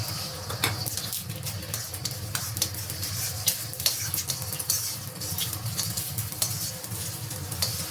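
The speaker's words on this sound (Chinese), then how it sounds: "1大勺油烧热，倒入鸡蛋液" Beaten egg hits hot oil and is stir-fried, giving a steady bright sizzle with scattered crackles and spatula scrapes that continue evenly throughout, with no voices.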